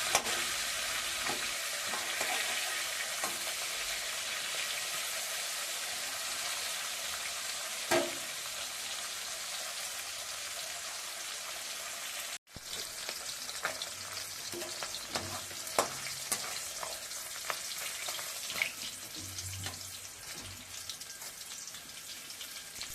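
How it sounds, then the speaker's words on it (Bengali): A fish head sizzles and spits as it fries in hot oil in a Bengali home kitchen, with a steady close crackle and occasional stirring scrapes, plus a brief pause midway. "মাছের মাথাটা ভালো করে ভেজে নেব।"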